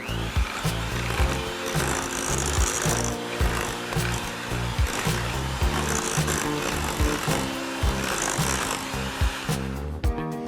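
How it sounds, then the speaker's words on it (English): An electric mixer beats butter and sugar in a bowl for sour cream pound cake batter, a loud continuous whir with rattling, clattering beater knocks throughout and no talking. "Now just mix this for a minute or 2 until it looks nice and fluffy."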